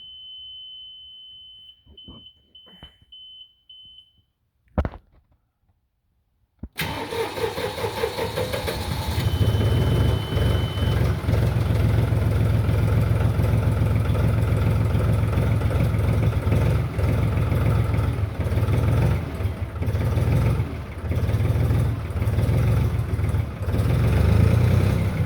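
An old diesel tractor that has sat unused for a month or two is cranked over after a few clicks and a sharp knock. It catches and settles into a loud, steady, rumbling idle that stays close for about twenty seconds, with no talk.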